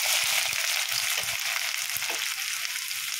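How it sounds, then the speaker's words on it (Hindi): About 300 grams of finely chopped onions go into hot oil with whole spices in a kadai for kadai chicken, producing a dense, steady frying hiss with a few soft knocks and stirs beneath it. "अब इसमें डालते हैं 3 बड़े आकार के बारीक कटे हुए प्याज।"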